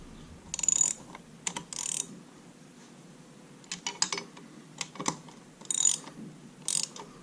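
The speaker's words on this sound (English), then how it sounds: "then we'll tighten up our bar nuts" A wrench tightens the bar nuts on a McCulloch Pro Mac 10-10 chainsaw fitted with a 28-inch bar, giving short metallic ratcheting clicks in several bursts with quiet pauses between them, close and fairly faint.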